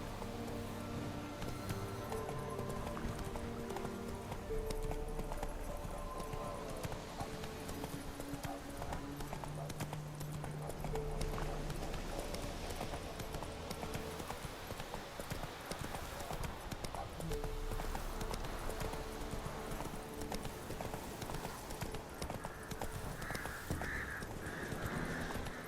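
Horse hooves clip-clop steadily from Roach, a horse in The Witcher 3: Wild Hunt game, a continuous rhythmic trot over a layer of music and ambience, with a brief whinny possible.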